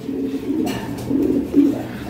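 Soft, low cooing of Lahori Shirazi pigeons, a few rolling coos close by with a faint rustle, no talking.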